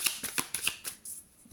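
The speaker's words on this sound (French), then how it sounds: "on mélange bien les cartes" Tarot cards being shuffled by hand, a quick series of soft riffling flutters and taps at close range, fairly quiet, over about a second and a half.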